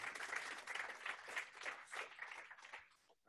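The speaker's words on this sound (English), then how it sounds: "So let's give them a round of applause." A short, dense burst of audience applause for panel speakers at a cloud data lake talk, steady and moderately close, fading out at the very end.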